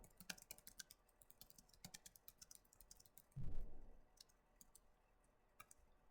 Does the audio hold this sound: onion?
no